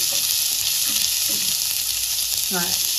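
Dried red chillies sautéing in oil, with a constant loud hiss of frying close by and a few soft stirring sounds beneath it.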